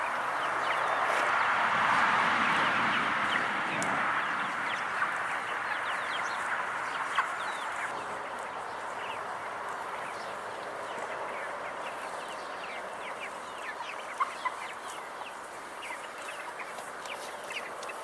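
Homestead chickens cluck steadily throughout, a busy flock sounding at close to moderate distance with no talk over them.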